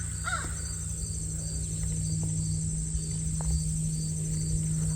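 A crow gives a short caw early on, fairly distant, over a constant outdoor bed of cricket and insect buzz with a low hum underneath.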